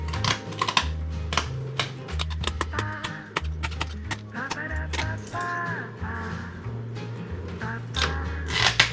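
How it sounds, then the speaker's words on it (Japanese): Sharp snipping clicks from cutting the spiny dorsal fin off a crescent sweetlips (コショウダイ) during filleting, repeated at close range over a steady bed of rhythmic background music. "まずこのめっちゃいかつい背びれ、これ怖いんで切り取ります"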